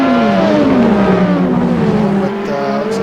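Racing cars in a Lotus 98T racing video game at Paul Ricard, engines roaring loudly and steadily with shifting revving pitches as cars run close together in traffic, continuous throughout with no talk.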